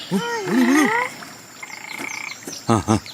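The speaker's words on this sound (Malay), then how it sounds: "Ada katak." Cartoon frog croaking from a pond where children hunt for rare fighting fish, a few short bursts near the end following cartoon voices.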